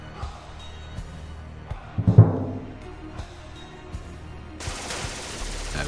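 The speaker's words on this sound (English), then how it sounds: "Okay, I got an MG42 in that building." Gunfire from an MG42 machine gun in a war video game, a loud burst of shots around the two-second mark over a low background of game ambience, with a later rise of broadband noise.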